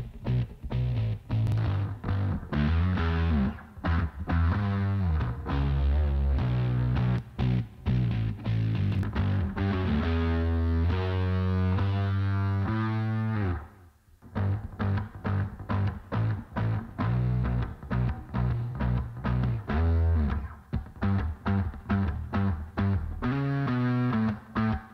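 A distorted electric bass plays a busy, driving line in a Mixcraft mix with the Waves CLA Bass plugin switched off and on, loud and continuous apart from a brief dropout midway, with no talking.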